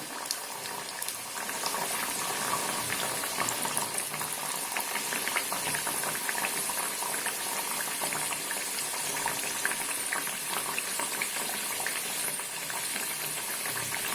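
Methi puris deep-frying one at a time in hot oil in a small kadhai, a steady dense bubbling sizzle that holds evenly throughout without talk.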